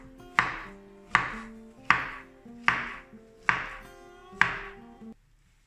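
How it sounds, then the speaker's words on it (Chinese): A knife cuts a banana into small pieces on a chopping board, six evenly spaced, crisp knocks of the blade striking the board, close and clear with no talk. "现在我们把这个香蕉切成小块"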